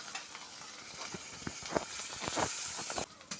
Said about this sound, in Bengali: এখন গরম তেলে কাঁচামরিচ আর পেঁয়াজ কুচি কেটে দিয়ে দিচ্ছি।